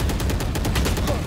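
Rapid gunfire in the tactical shooter video game Valorant, a loud, fast, evenly spaced burst of automatic shots filling the short moment.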